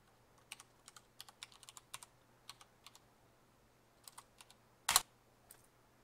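Keys click softly on a computer keyboard in short, irregular bursts against a quiet hum, with one sharper, louder clack near the end.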